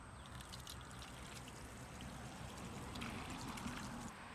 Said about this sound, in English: And then we're gonna go ahead and fill up our hose sprayer bottle right here.